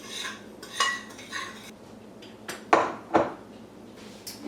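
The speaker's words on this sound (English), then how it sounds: "I'm going to be adding 1/2 cup of sugar, and we're going to mix that together." A utensil stirs sugar into gluten-free chestnut flour muffin batter in a bowl, making intermittent clinks and scrapes against the bowl's sides, close up and without speech.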